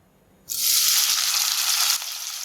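Chopped onion dropped into two spoons of hot oil in a pan for Chettinad chicken gravy, silence breaking into a loud, sudden sizzle that settles slightly softer near the end.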